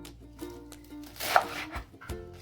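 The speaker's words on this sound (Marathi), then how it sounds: "आपण आता हे सगळं बारीक चिरून घेणार आहोत." Mustard greens and bathua leaves are finely chopped with a knife on a board, a series of close, irregular cutting knocks with a soft hiss between strokes.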